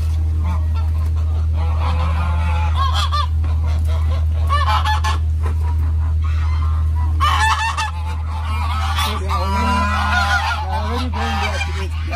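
Chinese geese honk repeatedly and loudly close by on a farm, a noisy flock calling over a steady low hum.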